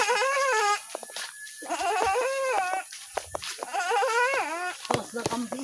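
Goats bleat repeatedly at close range, several wavering, drawn-out calls in quick succession, with people speaking in between on a rural holiday in Bicol.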